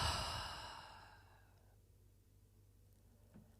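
A slow, deep breath drawn during a guided moment of calm, a soft, airy exhale that fades gradually into quiet, faint and close with nothing else around it.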